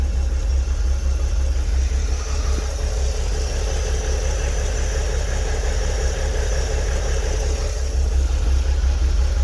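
A 2003 Porsche Boxster that had sat for over four years idles steadily as it warms up, a constant low engine drone with a faint higher whine running throughout, close and unbroken, with no talking.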